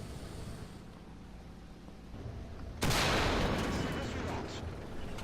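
A tank cannon fires in War Thunder, an AMX-30 main gun, a sudden loud blast partway through followed by a long rumbling decay over a low engine drone.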